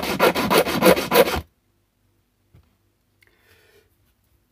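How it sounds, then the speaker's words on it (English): A file rasps across the top of a metal part on an MK screwless electrical socket, about five quick, close back-and-forth strokes. Near silence follows, broken only by faint handling taps. "Let's file the top."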